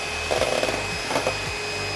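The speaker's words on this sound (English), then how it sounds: "Now we're going to whip all that up together and set it aside." A mixer whips wet ingredients for granola, a steady whirring motor hum that runs the whole time with slight wavering in pitch.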